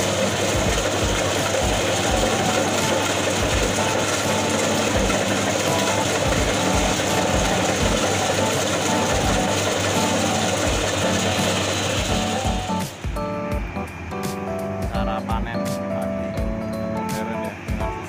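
A Kubota DC35 mini rice harvester runs its engine, a loud steady mechanical drone with rhythmic low thumps and clattering that shifts to a lighter, more tonal hum toward the end, with no talking.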